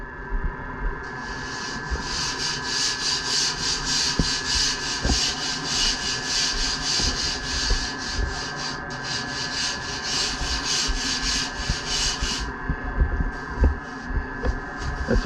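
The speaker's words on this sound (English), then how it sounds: "Now just swap over to my 80 grit." Hand sanding with 80 grit sandpaper, a rhythmic rasping scrub of rapid back-and-forth strokes, close and steady for about eleven seconds before stopping, over a faint background hum.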